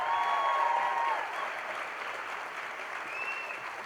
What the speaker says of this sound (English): One last round of applause for all of our outstanding educators.